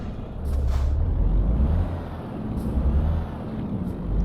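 A Renault truck in Euro Truck Simulator 2 runs with a deep, steady engine rumble, close and continuous, with a brief hiss of air brakes near the start.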